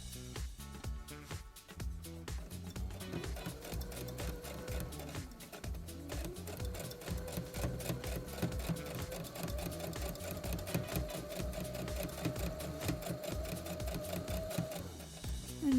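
A Brother CS7000i sewing machine runs a straight stitch around a cowboy hat's crown lining, its rapid needle chatter starting and stopping, then running steadily for a long stretch with a motor whine underneath.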